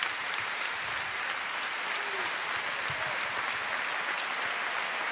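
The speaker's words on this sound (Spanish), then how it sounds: "El aplauso tan bonito, ¿no? De todo el Buesa, de los jugadores y la afición" Steady ovation from a basketball arena crowd and players at the Buesa Arena for a coach during a Liga Endesa playoff game, dense clapping heard at a moderate distance.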